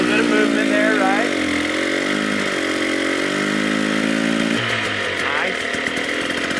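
An enduro motorcycle engine revs and bogs through slow wheelies, a loud, close, fluctuating drone with throttle blips and pitch changes; people talk over it.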